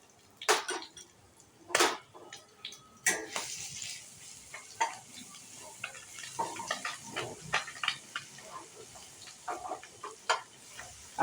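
Grated garlic dropped into hot oil with black cumin seeds for a spicy fish curry tempering, a soft crackling sizzle with scattered pops and clinks of a utensil against the pan, fairly quiet and close.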